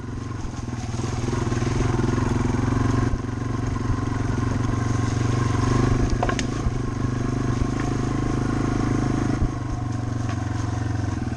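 A Yamaha TW200 trail motorcycle rides steadily at an even, low throbbing engine note for about eleven seconds, with light clatter and wind noise and no talking.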